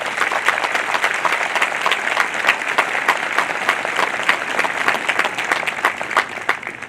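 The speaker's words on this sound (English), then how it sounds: "If you could join me in a round of applause." A graduation audience at a naval nuclear power school claps for the color guard and choir, a loud dense round of applause with individual sharp claps standing out, continuing evenly throughout.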